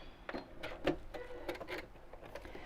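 A domestic sewing machine stitching straight down a seam line, heard as a few short mechanical bursts with brief pauses, moderately loud and close, no talking.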